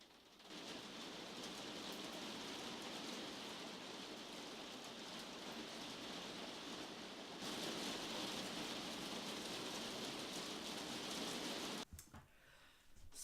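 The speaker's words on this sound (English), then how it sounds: "So it turns out the hail was actually pretty bad" Heavy hail pours down outside, a dense, loud, steady hiss of pelting ice that swells slightly partway through and then cuts off abruptly near the end.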